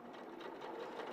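A sewing machine runs steadily through a reinforced back stitch on garment side body panels, a continuous close motor whir and needle patter at moderate level with no talking.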